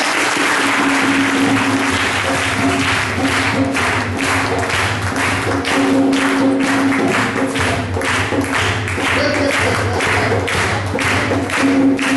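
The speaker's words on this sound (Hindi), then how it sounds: "क्या हम ताली बजा सकते हैं?" A congregation at a Borivali prayer meeting applauds after a prayer, loud steady clapping from many hands sustained for about twelve seconds, with a low musical hum underneath.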